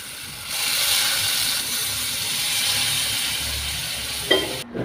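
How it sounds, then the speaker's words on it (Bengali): Sugar syrup is poured into semolina halwa frying in ghee, raising a steady hissing sizzle that swells at once and holds, followed by a short clatter near the end. "প্রথমে যে শিরাটা আমরা তৈরি করে রেখেছিলাম সেটি এখানে ঢেলে দিচ্ছি"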